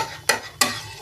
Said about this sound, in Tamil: தோசை நல்லா முருகலை வேகட்டுங்க